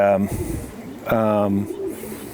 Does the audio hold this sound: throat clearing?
no